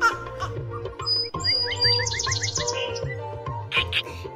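Cartoon crow in the Meena Raju video game, bright synthetic chirps and tweets layered over a bouncy game music loop, with short cawing bursts near the end.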